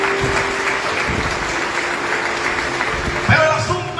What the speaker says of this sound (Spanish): dale el aplauso al Rey en esta mañana